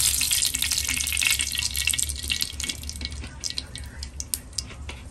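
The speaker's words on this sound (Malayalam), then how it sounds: "അതിലേക്ക് നമുക്ക് ഇത്തിരി എണ്ണ ഒഴിച്ച് കൊടുക്കാം" Sunflower oil poured into a hot pan while making alfaham chicken at home, heard as a close, splashing, trickling pour with fine crackles of sizzle settling into sparse drips, and no voices.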